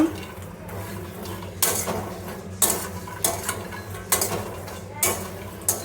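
Makhana roasting in a pan over a low flame, a metal spoon scraping and clinking against the pan in regular strokes about once a second over a faint steady hum.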